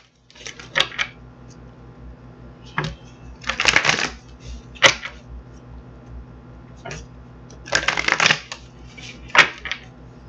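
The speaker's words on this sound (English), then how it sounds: "let's get this other deck together, get it shuffled up" A deck of tarot cards being shuffled in several short riffling bursts separated by pauses, close up, with light ticking card handling in between.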